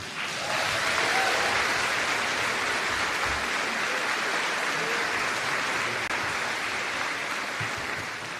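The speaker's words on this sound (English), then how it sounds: "let's get another round of applause" A ceremony audience of graduating students and guests bursts into sustained applause, a dense, steady wash of clapping that holds at full strength for several seconds before easing slightly at the end.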